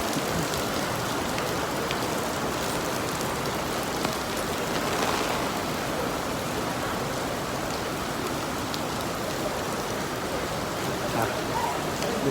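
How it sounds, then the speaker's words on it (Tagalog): Rain falling steadily near an airport, a dense, even wash of drops pattering on surfaces that holds without a break. "Maulan din eh."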